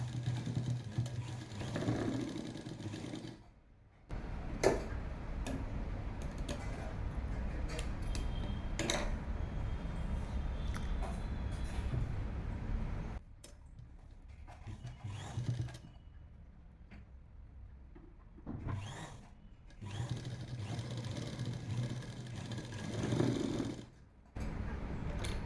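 Ticking, whirring runs of a sewing machine stitching a top sound up close, with several short pauses between runs.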